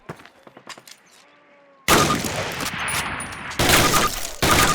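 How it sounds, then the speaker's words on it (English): Several loud rifle shots ring out in a Call of Duty training range, a close burst after a quieter opening, with sharp reports following each other closely and no talk over them. "Fire 3 more rounds at your target."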